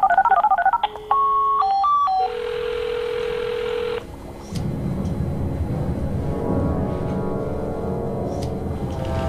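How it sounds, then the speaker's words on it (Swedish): Telephone number being dialed on a keypad: a quick run of DTMF tones with short steady beeps, then a longer held tone, followed by a low rumbling background, loud and close with no talk. "Ring upp Claes."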